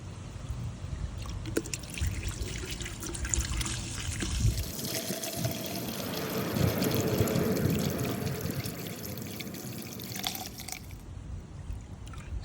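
Petrol drains from a Yamaha motorcycle fuel tank through a silicone hose into containers, a soft steady trickle and pour that swells and fades, close by with no talk.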